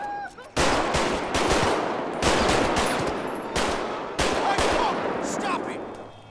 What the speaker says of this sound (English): Stop shooting him!